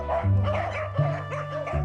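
A corgi barks nearby in three quick, high, yappy barks, the last one slightly whiny.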